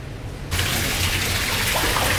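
Water running in the Hog River tunnel beneath Hartford, a steady rushing flow that echoes in the dark underground channel and swells louder after a brief quieter start.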